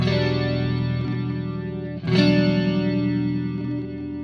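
A sustained electric guitar chord shimmers with a wide, swirling Arion stereo chorus effect, ringing steadily and then re-struck once midway, with no voices.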